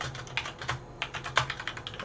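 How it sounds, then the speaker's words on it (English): Rapid, uneven clatter of fingers on a computer keyboard, a dense run of soft close keystrokes with no voices. "I am typing."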